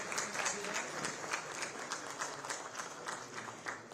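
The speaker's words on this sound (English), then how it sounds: "Can we have a round of applause for this?" Audience at the India-Israel business forum applauds during an MOU signing ceremony, a sustained patter of many clapping hands with individual claps standing out, heard at a distance and fairly soft, with some murmuring beneath.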